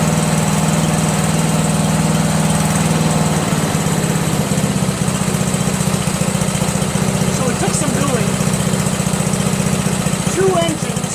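A Craftsman LT2000 lawn tractor with a 12.5HP engine runs steadily at close range, a loud continuous low drone with a buzzy rumble; a voice speaks briefly over it.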